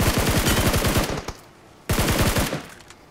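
Cover-fire gunshots ring out in a video game in two loud, close bursts of rapid automatic fire, each trailing off into echo, with a short pause between them.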